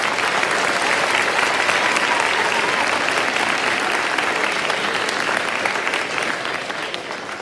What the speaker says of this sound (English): We gotta clap for that.